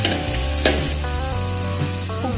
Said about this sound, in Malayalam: ഇനി നമുക്ക് ഇതിലോട്ടേക്ക് മാങ്ങയും കൂടി ചേർത്ത് കൊടുക്കാം. നന്നായിട്ട് ഇളക്കി യോജിപ്പിച്ചെടുക്കാം.